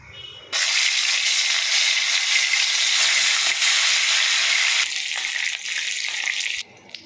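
Spice-marinated meat fries in hot oil in a wok, a loud sustained sizzle that starts abruptly, holds for several seconds, then eases slightly before cutting off.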